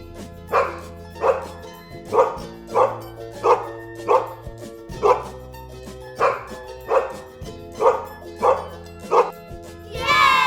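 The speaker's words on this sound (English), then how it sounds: "dog माने कुत्ता" A dog barks in a steady series of about a dozen evenly spaced woofs, each loud and close, set over a soft musical backing with no voice.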